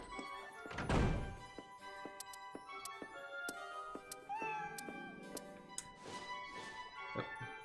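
A cat meows nearby, one drawn-out cry early on and another near the end, with a soft thunk between, over quiet video game music from Odin Sphere Leifthrasir on PS4.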